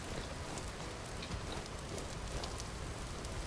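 Steady rain falls in the Vintage Story video game, a dense, even hiss of drops pattering on surfaces, soft and continuous with no voices over it.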